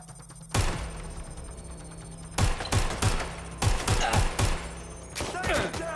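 Gunfire in the video game Watch Dogs: Legion: a loud shot near 0.6 s, then two close-range bursts of rapid shots at 2.4 and 3.6 s, with a softer burst near the end over steady game background noise.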